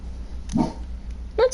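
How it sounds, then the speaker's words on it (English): A dog barks at home, reacting to car door noises: two short, sharp barks about a second apart against a quiet room hum. "she's barking at any car door noise"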